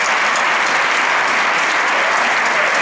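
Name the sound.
audience applause at a jota gala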